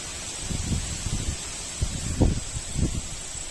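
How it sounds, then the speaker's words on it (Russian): Gusty wind blows through leaves outdoors on a stormy day, soft bursts of rustling and low buffeting rising and falling over a steady faint hiss. "Ох, как ветер разбушевался."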